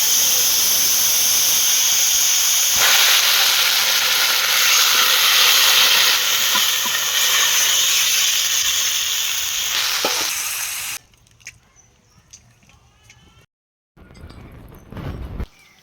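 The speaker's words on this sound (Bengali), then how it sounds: "দেখুন বন্ধুরা, ঝোলটি তো ফুটতে শুরু করেছে।" Fish curry broth in a wok bubbles and hisses loudly and steadily, a dense close sizzling roar that cuts off abruptly, leaving faint quiet clatter.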